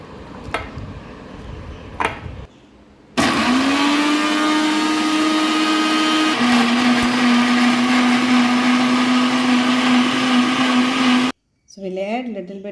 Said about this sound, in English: So we have to grind this to a liquid.